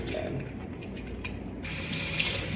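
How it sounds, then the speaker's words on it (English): Tap water runs steadily into a dormitory sink while hands are washed, a continuous close rushing splash with no talking. "we're gonna wash our hands"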